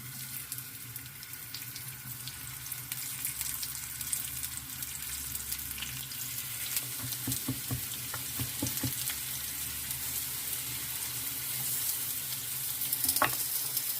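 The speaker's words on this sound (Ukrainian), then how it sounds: "Сковорідка розігрілась, наливаємо небагато олійки, викладаємо картоплю." Potatoes sizzle and crackle steadily in a little hot oil in a pan, with occasional sharper pops and clatters, no voices.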